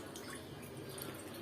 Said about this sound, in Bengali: আর দিয়ে দেব হচ্ছে পানি